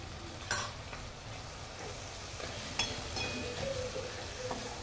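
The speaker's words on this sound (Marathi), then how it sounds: "आता 2 ते 3 मिनिटं मी असं मिक्स करत राहते।" Coriander powder and asafoetida being stirred in hot oil, a soft, steady sizzle with a few faint utensil scrapes and clinks, fairly quiet, with no voices.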